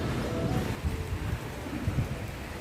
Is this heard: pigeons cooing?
no